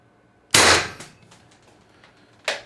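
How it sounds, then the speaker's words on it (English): Airgun firing a 4 gram Vindicator round on 800 psi HPA: one loud, sharp pneumatic crack at close range that trails off quickly, then a second shorter burst of noise near the end, with no talking. "4 gram Vindicator rounds, shot 1"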